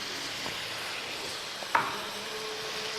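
A pan of chicken and mushroom is stirred, a steady sizzle of frying running throughout with soft scraping strokes and one brief louder clack of the utensil against the pan near the end.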